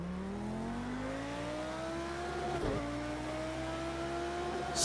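A race car in Project Cars 2 pulls away in first gear, its engine note climbing steadily through the rev range, then shifting with a brief clunk before rising again, loud and close.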